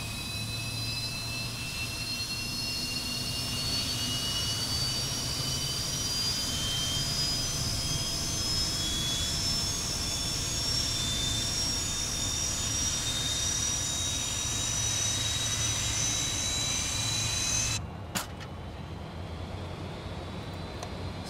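Fokker F28 jet engine spooling up at start in a flight simulator game, a steady loud whine with rising high tones over a broad rushing roar, continuous and alone.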